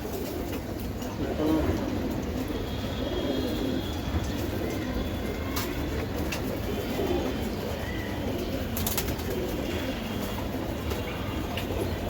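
A pair of club-raced racing pigeons coo softly and steadily against a constant background hum, with a voice talking at points.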